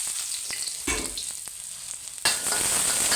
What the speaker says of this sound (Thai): ใผัดจนกระเทียมเหลืองหอมนะครับ